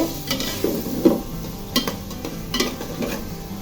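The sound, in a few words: frying spices in oil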